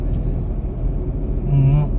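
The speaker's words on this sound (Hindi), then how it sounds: "अभी मैं आपको अपने गाड़ी का इंजन भी स्टार्ट करके और दिखाऊंगा।" Maruti Alto K10 car engine idling close by, a steady low rumble with mild vibration and a brief louder hum rising near the end.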